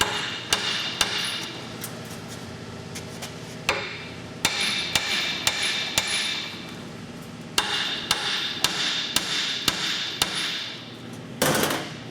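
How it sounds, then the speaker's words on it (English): Repeated sharp metallic hammer strikes on a Ford F350 4WD ball joint ring out close by, coming in uneven bursts of several blows with short pauses between them. "I'm just gonna give her a couple whacks with a hammer."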